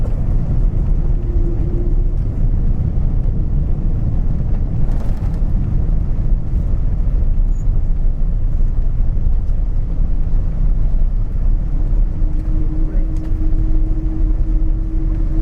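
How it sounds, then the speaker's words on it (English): A Korean Air Boeing 777 braking hard on the runway just after landing, heard from inside the cabin as a loud, steady low rumble and roar with a faint tonal whine, no talking. "Those are good brakes."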